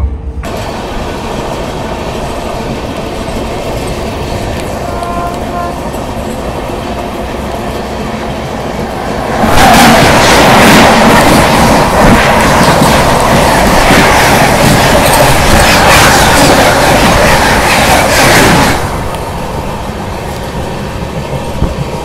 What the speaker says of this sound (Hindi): पर हमारी राजधानी यहाँ पहुँच रही है, काजीपेट जंक्शन।